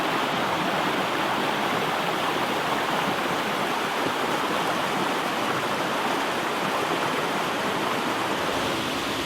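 Macintosh Falls in Cape Breton Highlands National Park, Nova Scotia, pours with a loud, steady, unbroken rush of falling water, constant from start to finish.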